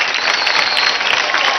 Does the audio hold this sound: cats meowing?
no